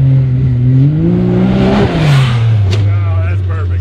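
A Kawasaki KRX side-by-side roars past on a dirt track, its loud engine note rising then sliding lower as it passes close by, with a person talking over the noise.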